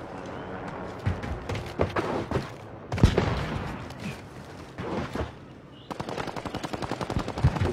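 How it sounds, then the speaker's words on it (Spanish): Rapid bursts of gunfire from a shooting video game, sniper shots among them, crackling in repeated loud volleys with brief pauses between them, the firing continuing steadily to the end. "¿Dónde está disparando ese franco?"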